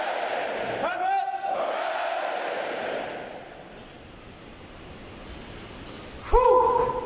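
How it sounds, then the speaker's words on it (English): Graduating U.S. Navy sailors at a recruit training graduation shout loud massed hooray cheers in unison, two big bursts separated by a quieter stretch of crowd murmur. "The adjutant will lead all graduating divisions in three cheers for this morning's award winners."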